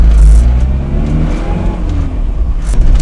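A Mini 1275 GT with a four-speed gearbox revs close by, a loud, raspy engine note rising and falling steadily with no speech.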